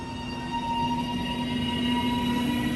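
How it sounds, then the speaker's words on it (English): A train runs along a railway line near a freight train between Fitzwilliam and Streethouse, giving a steady rumbling roll with a sustained tonal whine at moderate distance and no voices. "I think it might be going round the freight train"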